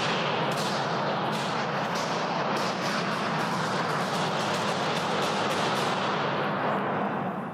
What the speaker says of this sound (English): You can actually hear Vickers' shots followed quickly by the parliamentary security team as they follow him in.